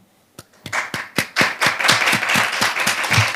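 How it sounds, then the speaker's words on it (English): A conference audience in a hall claps for a climate-energy conference, starting with a few scattered claps that quickly swell into steady, dense applause, close and loud throughout. "Let's applaud with each other."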